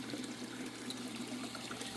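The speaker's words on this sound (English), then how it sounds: "It's basically just this pump throwing water into this bucket to filter it" A pump throws water into a filter bucket in a fish tank setup, producing a faint, steady trickling and pouring stream with no pauses and no voices.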